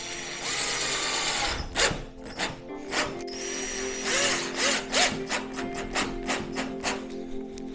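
A power drill drives screws into wood, with repeated whirring bursts of varying length that rise and stop, interspersed with short sharp clicks and knocks, close and fairly loud, with no talking.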